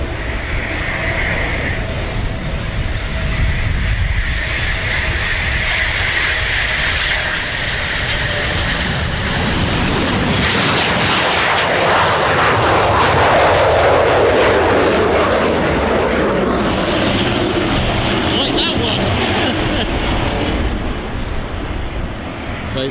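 A Eurofighter Typhoon FGR4 fighter jet comes in to land at an RAF station, a loud sustained jet roar with a high whine that swells as it passes close, then eases off into a continuing rumble.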